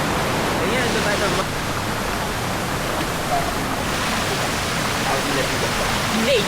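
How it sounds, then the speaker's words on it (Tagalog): Eighth Step Waterfall in the Mandalay Region roars with dense, continuous rushing water, loud and close throughout with no break. "Eighth Step Waterfall."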